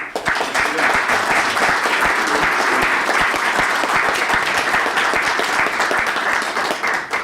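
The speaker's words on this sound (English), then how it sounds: "Ladies and gentlemen, Join a round of applause and thank you" Sustained applause from an audience at a lecture event, steady and full-bodied throughout, dense clapping with no pauses.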